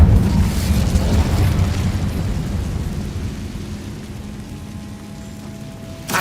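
Incendio fire spell cast in Hogwarts Legacy, a loud rumbling whoosh of flame that starts strong and slowly tapers over several seconds, with a brief burst at the very end.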